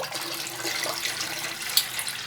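Water poured into a tamarind and plum sherbet, a steady close trickle and splash of liquid running into the mix, with a small clink near the end.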